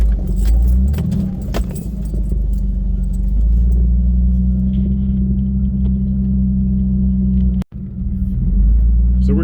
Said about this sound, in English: So we're still motoring towards the campsite